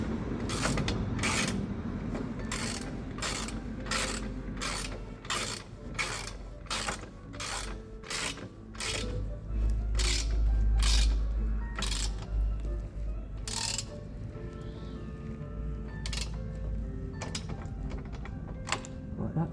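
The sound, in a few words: wrench tightening motorcycle exhaust header bolts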